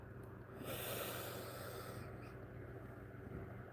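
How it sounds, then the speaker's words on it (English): A slow, quiet inhalation through the nose during a guided breathing exercise, a soft airy rush swelling near the start and then easing into a long faint breathy hiss, heard alone and close. "let's take a breath together"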